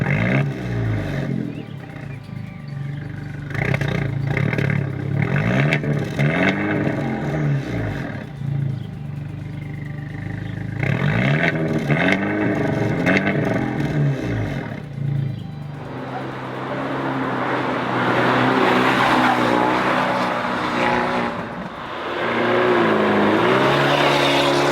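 A 2017 Abarth 124 Spider's 170 hp engine revs repeatedly with a throaty exhaust note, rising and falling in loud bursts, then a harsher sustained roar, with no talking.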